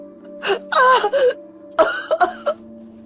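Several strained, forceful coughs and throat-clearing bursts in two clusters, close and loud, with a groaning, voiced quality between them.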